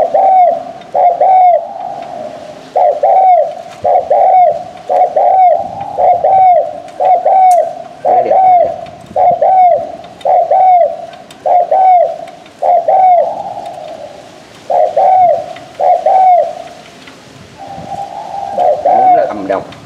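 Decoy turtle doves coo in a steady repeating rhythm, loud and close, with brief gaps between phrases over about twenty seconds.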